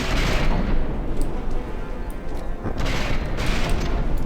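EMP rockets explode in bursts in the video game From the Depths, with loud booms around the start and again near the end over a dense, steady rumble of naval battle. No one speaks.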